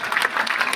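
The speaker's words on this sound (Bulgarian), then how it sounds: "Хайде, аплодисменти" Concert audience applauding, a dense, even patter of many hands clapping close by for a brief moment.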